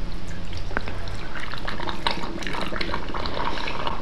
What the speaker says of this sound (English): And then top this one off with water.